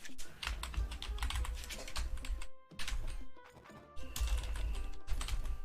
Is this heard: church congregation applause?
no